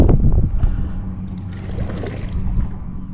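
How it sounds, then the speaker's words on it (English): Raptor shallow-water anchors deploy from a bass boat in a cattail-lined shallow, heard as a close mechanical whir and thud at the start followed by low, steady hum and water splashing. "Easiest way there is put your raptors down."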